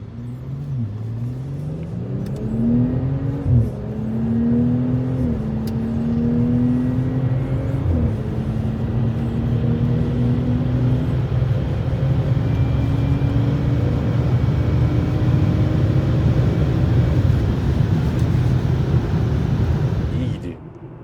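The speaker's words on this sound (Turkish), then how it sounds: "Egzoz sesi de çok tatlı." A BMW 640i GT with a B58 engine revs its exhaust in repeated rising pulls over a steady driving rumble, loud and close, while someone talks throughout.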